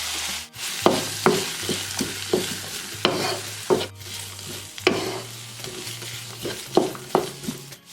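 Chopped onions fry in ginger garlic paste in a pan for paneer butter masala, a soft sizzle under repeated close scraping strokes of a spoon stirring at an uneven rhythm, with no talking.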